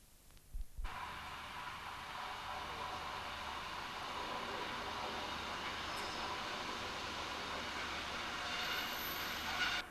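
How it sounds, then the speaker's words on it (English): A Pacer diesel train pulls away from a station platform bound for Manchester, a steady rising engine drone and rolling rumble that builds and holds for several seconds after a brief clunk at the start, heard from the platform. "The pacer leaves for Manchester and passes a train in Bay Platform 3, awaiting to start its journey to Liverpool."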